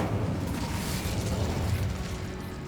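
Incendio fire spell cast in Hogwarts Legacy, a loud roaring whoosh of flame with a booming low body that holds steady for a couple of seconds before easing slightly.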